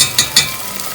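Tomato paste for Turkish roasted tomato soup hits a pot over medium-low heat, giving a soft steady sizzle with two brief brighter hisses near the start, close and fairly quiet.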